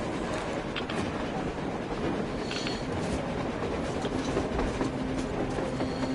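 A train rumbles past on the surface in the video game Metro Exodus, a steady heavy rolling clatter with wind noise, continuous and fairly close, with faint voices underneath.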